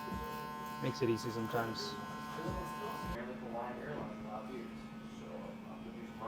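Electric hair trimmer buzzing through a haircut and beard trim, a steady mid-level hum running throughout beneath someone talking.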